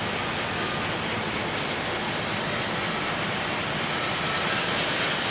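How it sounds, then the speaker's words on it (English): A machine polishes scale off steel tubing with a loud, steady broadband rush of abrasive noise that runs unbroken and close from start to finish. "when we talk about polishing tubing, that is what's taking place right here, is polishing tubing"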